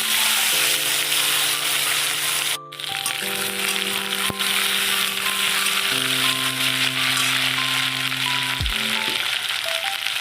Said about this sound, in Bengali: কচুগুলো দিয়ে একটু নেড়ে নেব।